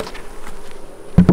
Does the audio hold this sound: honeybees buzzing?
yes